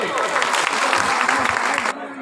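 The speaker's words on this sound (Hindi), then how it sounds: "जोरदार ताली" A crowd gives loud applause for two ministers at a rural water supply project foundation ceremony in Jharkhand, a dense, sustained clatter of clapping that cuts off sharply near the end.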